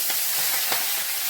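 Fenugreek leaves hitting hot oil tempered with black cumin and dried red chilies give a soft, steady sizzle with a couple of brief crackling bursts, close and alone.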